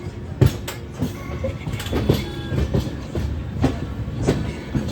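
Ratnachal Express running from Duvvada toward Visakhapatnam, heard from inside the coach: a steady rumble with rhythmic clickety-clack of wheels over rail joints and occasional sharper knocks, continuous and fairly close.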